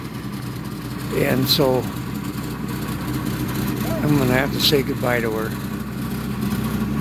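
A car engine with a mechanical fault runs at a steady low idle, a constant rumble lying beneath someone speaking throughout.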